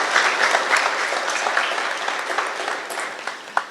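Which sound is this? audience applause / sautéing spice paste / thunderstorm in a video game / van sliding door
audience applause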